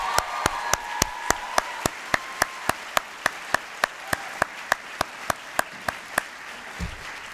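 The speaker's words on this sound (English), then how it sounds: "Another round of applause for Mr." At a high school graduation ceremony, sharp, evenly spaced hand claps sound close and prominent, roughly three per second, over a quieter wash of crowd applause.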